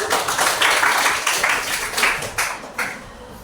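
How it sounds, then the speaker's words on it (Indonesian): A classroom group applauds at the close of a lesson, a brief burst of clapping in several uneven surges that fades out after a few seconds. "Tepuk tangan untuk Allah"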